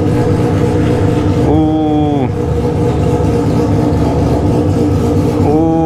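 A BMW 1200 motorcycle engine revs loudly up close in two rising bursts over a steady rumbling idle, with muffled background noise throughout.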